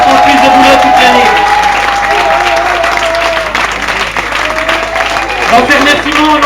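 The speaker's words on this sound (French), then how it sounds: "Et il faut vraiment les applaudir, c'est vraiment eux qui méritent les applaudissements." Sustained applause from an audience thanking scouts at an evening scout gathering, loud and steady throughout, with voices and cheering mixed into the clapping.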